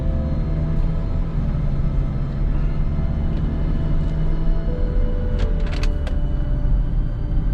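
A used diesel Kia Carnival Limousine on a test drive gives a steady, loud low rumble of engine and road noise from inside the cabin, with a few brief rattles and clicks near the end.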